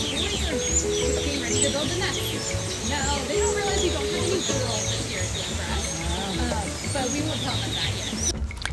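Birds chirp and call all around inside an aviary at Disney's Animal Kingdom. A busy mix of tweets and clucking sounds fills the background, with people talking faintly beneath the birdsong.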